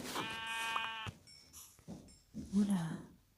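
A sheep in the video game Minecraft bleats in short wavering calls, heard close alongside someone speaking French.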